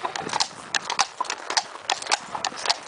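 A horse trots on a ride around Lingåsen, its hooves clip-clopping in a quick, steady rhythm that sounds close and clear.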